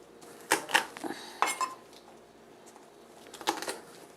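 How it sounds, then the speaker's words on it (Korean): A knife mincing garlic makes a few sharp, close clacks on a cutting board in quick little clusters, with quiet gaps between them and no talking. "마늘을 다져서"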